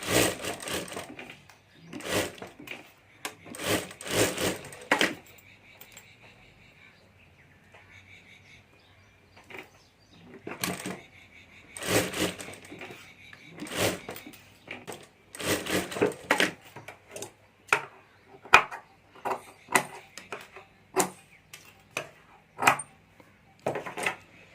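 Sewing machine stitching a handmade hand bag, running in several short bursts of rapid mechanical clatter separated by quiet pauses, fairly close, with no talk.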